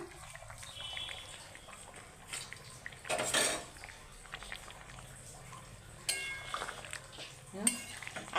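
A metal spoon clinks and scrapes in a pan of mixed poppy seed curry gently simmering, with a few sharp knocks on the rim and a quiet background hiss.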